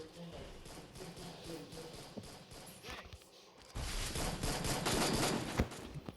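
Bursts of rapid gunfire in the mobile battle royale game Garena Free Fire, growing louder and denser in the second half, with excited talk over the shooting.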